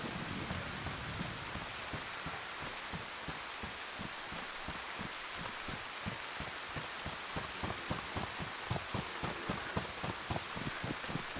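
Pouring rain during a thunderstorm in the video game DayZ, heard while travelling down a dirt road: a dense, steady hiss of heavy rain with faint, irregular patters, continuous and unbroken with no voices.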